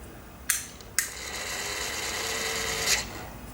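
A model-railway toggle switch gives two sharp clicks, then a pair of Tortoise switch machines drive the points with a thin, steady motor whine lasting about two seconds before stopping.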